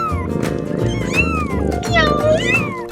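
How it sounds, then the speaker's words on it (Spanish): A kitten meows several times, high and sliding up and down in pitch, over a steady children's song with music and singing underneath. "Aquí está un gatito."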